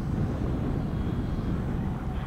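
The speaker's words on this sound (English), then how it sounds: "Plane coming, yep." A Strix Goblin RC plane on a 6S LiPo passes overhead, a steady, loud broadband whoosh of wind and motor that fades slightly at the end, with no talking.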